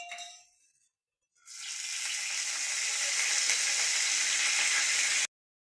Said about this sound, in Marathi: आता टाकून घेऊ थोडासा तेलामध्ये कढीपत्ता